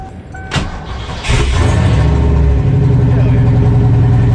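A turbo V8 in a Ford Foxbody Mustang cranks and fires after sitting for three months, a short starter whir followed by the engine catching and settling into a loud, steady idle up close.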